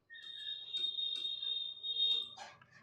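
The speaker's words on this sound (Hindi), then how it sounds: "गलती से मैंने मिनट वाला टाइमर ऑन कर दिया था" A countdown timer alarm beeps in a steady, shrill electronic tone that holds for a couple of seconds, fairly faint and alone, then cuts off with a brief rustle.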